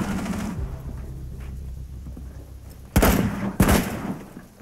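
Video game gunfire in Rainbow Six Siege during a house hostage match: two sharp, loud bursts near the end, following a quieter stretch of low rumble.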